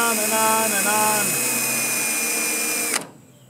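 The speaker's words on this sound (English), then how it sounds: "you got to drill just the cap of the rivet" A power drill spins a sharp bit into pop rivet caps, a loud high whine that stutters in pitch early on, then holds steady before abruptly stopping, leaving near silence.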